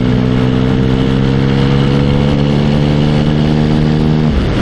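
A motorcycle picks up speed to overtake on an open road, its steady engine note holding loud and close under wind noise before dropping away near the end.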